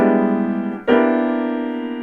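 Jazz piano block chords shifting upward in minor-third steps, two sustained chords with a clear strike at the change, ringing and close, with no voices.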